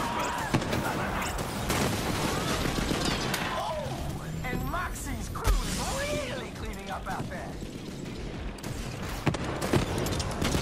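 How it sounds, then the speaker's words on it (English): Rocket launcher fire in the Borderlands 3 shooter game, a dense clatter of blasts, impacts and mechanical effects across the whole stretch, with a voice talking over the chaos. "She's shooting me point blank with a rocket launcher."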